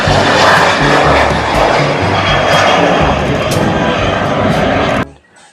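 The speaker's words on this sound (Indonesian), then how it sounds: "lihat teman-teman, ada pesawat terbang teman-teman." An airplane flies overhead as a loud, broad engine roar that holds steady for about five seconds, then cuts off abruptly.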